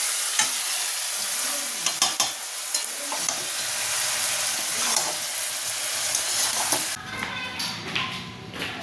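Katla fish curry with tomato and green chili frying and being stirred in a pan, a steady loud sizzle broken by scraping taps of the spoon, easing to a quieter bubbling near the end.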